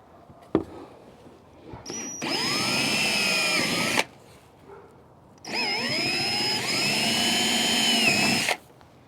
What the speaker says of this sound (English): You'll see as it goes through, it wants to pull in really hard, so you got to almost hold the drill back.